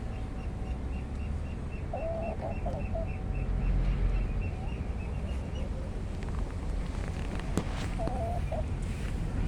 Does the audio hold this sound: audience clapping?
no